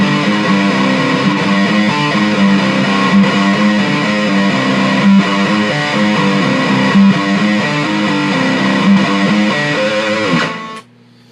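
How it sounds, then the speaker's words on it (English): A loud, distorted electric guitar riff of sustained power chords, played steadily alone before cutting off abruptly near the end. "it starts out with open power chords"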